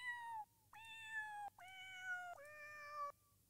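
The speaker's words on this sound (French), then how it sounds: "on est en train de caresser un chat en fait" Recorded cat sounds play from a cat-petting website: four clear meows in a row, each a rising or falling tonal call with a short gap between, heard alone over faint background hum.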